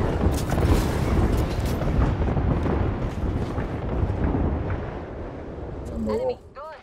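A Bangalore ultimate artillery strike in Apex Legends lands as a sustained barrage of rumbling blasts for several seconds, loud and dense, fading near the end as voices talk over the game.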